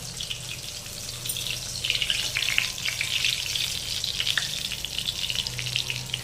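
Hilsa with mustard frying and being stirred in a pan, a steady loud sizzle with bursts of crackling and scraping as it is moved around.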